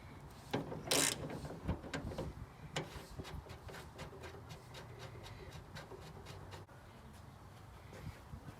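A ratchet wrench removing a bolt at the top of a Mazda RX8 hood during a carbon fiber hood damper install. It gives a quick series of close clicking ratchet strokes that is fairly faint under some background noise.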